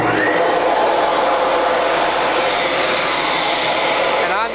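Industrial Ruwac FA2000 silo vacuum running with its hose off the tubing system, a loud, continuous roar of rushing air that holds steady throughout and ends with a brief shift.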